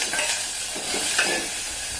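Loud, continuous sizzling as tomatoes hit hot oil, with soft stirring scrapes in the pan.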